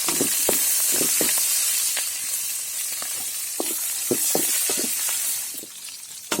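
Garlic and green chillies fry in hot oil for a Tulu-style amaranth greens palya, a steady close sizzle broken by frequent scraping stir clicks, with no voices.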